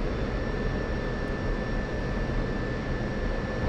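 An F-16 jet engine in the flight simulator DCS roars steadily and loudly during aerobraking, a dense, continuous rumble with a high whine on top and no voices.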